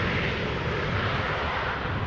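An airliner arrives on runway 18R, the Polderbaan, at Schiphol Airport. Its engines make a loud, steady broadband roar close by, with no speech.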